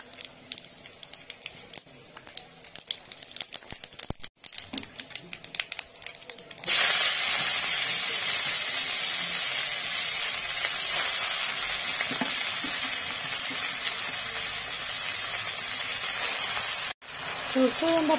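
Garlic and mustard seeds hit hot oil with a sudden loud, steady sizzle that starts partway through and holds, near and bright, with quiet kitchen sounds before it.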